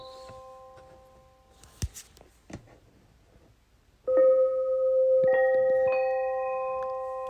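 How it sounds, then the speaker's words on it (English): Bell tones from a white noise machine ring out, a few faint chimes with light clicks at first, then a louder sustained ringing bell that holds and slowly fades, with no speech. "And your good old bell."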